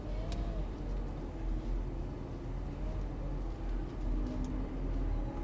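An exotic sports car at Las Vegas Speedway pulls away under gentle throttle, its steady low engine drone broad and continuous with faint road and wind noise, no sharp revving.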